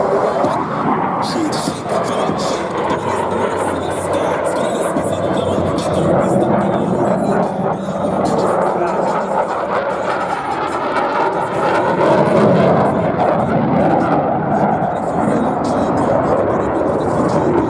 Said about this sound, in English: Observe as both pilots sustain 6 times the force of gravity to cross their aircraft over show center.